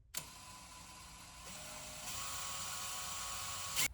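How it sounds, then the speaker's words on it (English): A drill whirs steadily into a metal windshield wiper arm, its pitch and intensity stepping up partway through as it bites into the hard surface, ending with a brief sharp burst. "let's try to drill this out."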